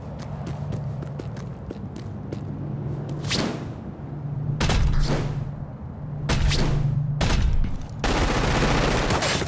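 Rapid automatic turret fire in the Crackdown 2 video game, bursts of close, loud gunshots repeating in several clusters over a low steady game hum, growing denser toward the end.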